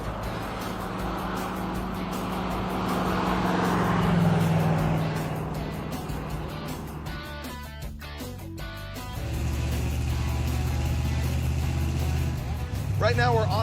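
A 454 El Camino driving on the road: a steady engine and road drone with a swell in the middle, muffled cabin rumble, and a person talking over it throughout.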